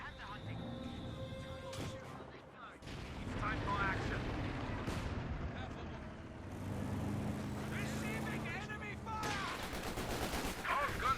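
Machine gun fire, including a Vickers gun, rattles in a Company of Heroes 2 two-versus-two battle, with repeated bursts and heavy explosions under a commentator's steady talk.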